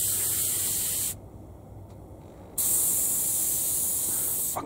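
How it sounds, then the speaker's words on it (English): Iwata Custom Micron airbrush sprays in close, steady hissing bursts of compressed air, with a brief pause in the middle before the spray resumes. "medium spray patterns are absolutely beautiful with this airbrush as well"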